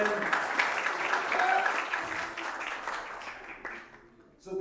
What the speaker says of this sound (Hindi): जोरदार तालियां हो जाएगी सर